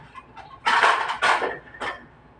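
Plates and dishes handled at a New Year's Eve meal with rice, giving a few close ceramic clatters and scrapes in bursts over quiet room tone.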